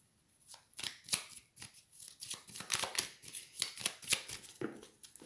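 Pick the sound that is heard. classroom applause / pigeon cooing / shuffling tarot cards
shuffling tarot cards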